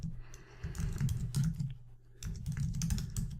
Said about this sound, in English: So let's type that in.